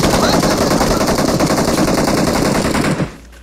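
Rapid automatic gunfire in the mobile battle royale game BGMI, a loud, close, continuous burst lasting about three seconds before cutting off abruptly.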